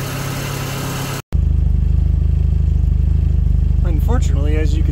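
A red Mini's engine idles steadily after its first start following valve gap and fuel pump repairs, smoking at idle. A brief dropout comes first, then the even mechanical idle runs close and continuous, with faint whistling near the end.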